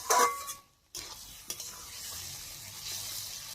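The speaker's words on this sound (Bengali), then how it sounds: "এইবার আমি একটু নাড়াচাড়া করে কষিয়ে নেব।" Boiled vegetables for shukto are stirred and sautéed in a pan. A burst of loud sizzle gives way to a brief hush, then soft scraping stirs and a gentle steady frying hiss.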